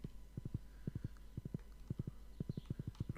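A horse's hooves clip-clop steadily in Stardew Valley, with quiet, regular hoof beats in quick clusters over a faint background hum.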